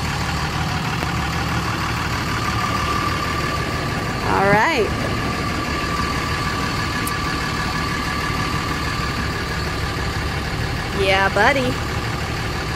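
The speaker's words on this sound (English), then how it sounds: "Hear that engine going." A pickup truck's engine idles steadily as a low, continuous rumble throughout, with people talking briefly over it now and then.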